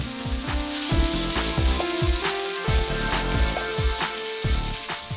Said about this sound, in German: in die Pfanne und brate sie von beiden Seiten kurz scharf an